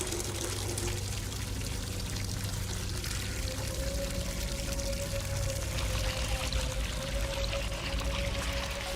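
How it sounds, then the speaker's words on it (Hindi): Water pours steadily from a tap in a continuous broadband rush, close and loud, with a faint tonal whine running underneath throughout. "देख कैसा पानी आ रहा है।"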